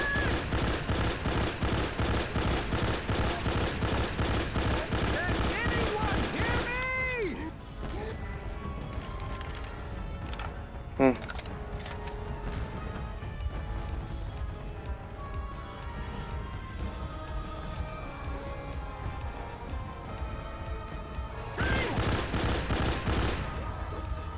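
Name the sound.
gunfire from shooting in a video game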